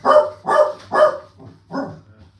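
Pointer dogs barking nearby indoors, four loud sharp barks in a quick uneven run, with a low steady hum beneath and no talk.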